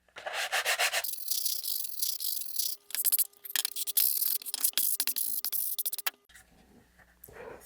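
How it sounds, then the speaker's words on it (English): Fine 320-grit sandpaper rubs along the edges of model rocket fins for an Apogee Nike Hercules kit in short, close scratchy strokes that start and stop irregularly, fading at the end, with no talk. "I'm going to use some fine grit sandpaper"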